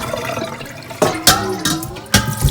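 Water is poured in several separate splashing bursts through a sand filter, loud and close, each pour gurgling briefly before the next.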